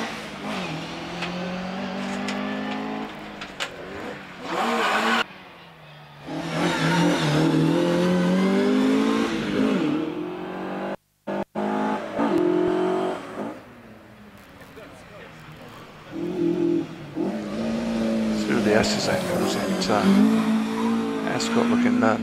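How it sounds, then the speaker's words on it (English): A Ford Escort Mark II race car, number 29, accelerates hard up the Prescott historic hillclimb, its engine revving and rising through gears with brief tyre squeal, loud and near, while a commentator talks over it. "Mark Hobbs is in the Ford Escort Mark II"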